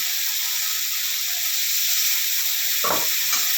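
Ginger, garlic, mustard and cumin paste frying with browned onions in oil, a steady close sizzle and hiss throughout with a short burst of stirring and scraping near the end.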